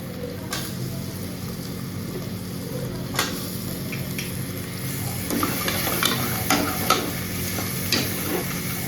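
Potatoes stirred into fried masala in a pan for a kofta curry in a village kitchen: a continuous sizzle with scraping stirs and occasional clicks of a utensil against the pan, growing busier midway.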